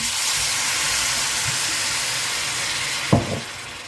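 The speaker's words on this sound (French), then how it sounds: "Maintenant, on va rajouter 1 décilitre de vin blanc et déglacer tout ça." White wine hits a hot pan to deglaze it, a steady broadband sizzle and hiss throughout with a sharper burst of spitting near the end.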